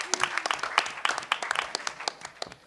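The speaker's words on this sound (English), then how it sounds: "I think it's a round of applause for everybody standing up out there" Applause at a hacker conference talk on building hackerspaces, with distinct, fairly sparse handclaps in an uneven rhythm, suggesting a modest crowd clapping close by.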